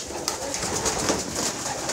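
Close pigeons coo in soft, repeated low throaty calls, a few short phrases at a quiet, steady level.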